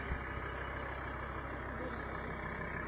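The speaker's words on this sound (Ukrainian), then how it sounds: "а цей спеціально газує, щоб не, не чути було, що я говорю" A car engine runs loudly nearby outdoors, a steady droning roar held at raised revs without speech over it.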